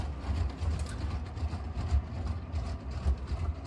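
Steady low rumble with faint rhythmic clicking of a LEGO toy train rolling along plastic track, continuous and fairly close with no talking.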